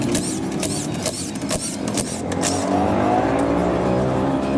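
An overhauled Honda CX110 motorcycle engine runs noisily up close, a loud continuous buzzing drone with rattling clatter and sharp bursts on top, steady throughout.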